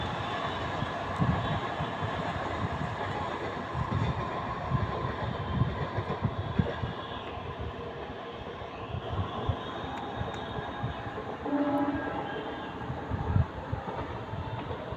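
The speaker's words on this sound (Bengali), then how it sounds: "আরেকটা ট্রেন ঢুকছে" A local train coming in from Howrah on the line through Uttarpara, Hindmotor and Konnagar toward Bandel and Burdwan, a steady broad rumble of rolling wagons filling the whole stretch at moderate loudness, with no talk.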